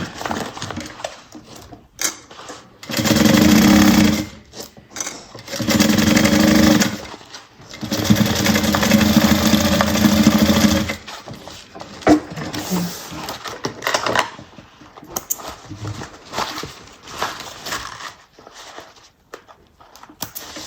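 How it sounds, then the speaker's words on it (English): A sewing machine stitches across the bottom of a fabric bag with a zipper pocket, running in three sustained whirring bursts separated by short pauses and quieter handling clicks. "And sew across the bottom. And up the other side."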